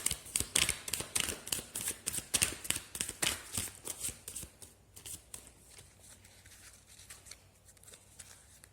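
Tarot cards shuffled by hand, close and crisp: quick riffling flutters in a fast run that slows into sparser, softer taps and slides.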